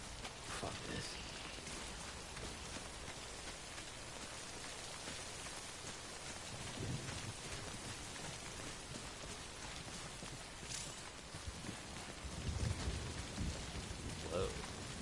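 Rain pours steadily in the video game Death Stranding, a dense, even hiss of drops hitting the ground for the whole stretch, with low rumbles now and then and no talk over it.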